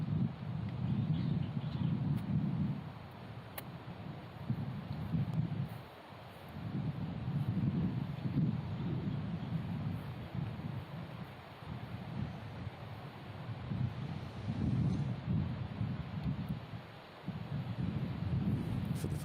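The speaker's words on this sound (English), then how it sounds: "maybe a gust of wind just getting her attention" Gusts of wind buffet the microphone at an outdoor women's professional golf tournament, rising and falling in several broad swells over about twenty seconds, with no voices heard.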